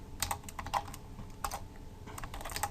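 Rapid keystrokes on a computer keyboard while entering code in an editor, a steady run of close, crisp clicks with no voices.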